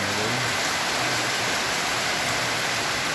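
Heavy overnight rain pours down with wind, a dense, steady, loud roar of falling water with no pauses and no voices.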